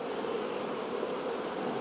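Honey bees drone in a dense, continuous buzz around an open beehive during an inspection after a swarm, close and steady with no pauses.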